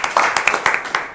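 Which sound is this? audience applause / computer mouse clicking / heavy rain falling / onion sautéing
audience applause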